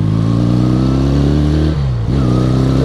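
A 1976 Honda CB200 twin motorcycle with a modified, opened-up exhaust idles and revs close by, a loud, steady throaty drone with brief dips in pitch, no talk.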